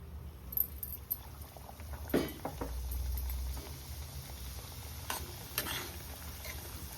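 Semolina (rava) roasting in hot ghee with occasional scraping stirs of a spoon, a quiet low background with a few sharp clinks and scrapes spread across the stretch.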